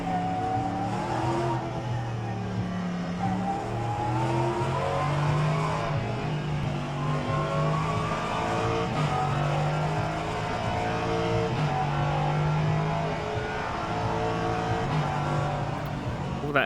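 An LMP3 prototype race car lapping Thruxton in the rFactor 2 racing sim, its engine loud and close, rising and falling through the gears in repeated revving sweeps with occasional tyre noise.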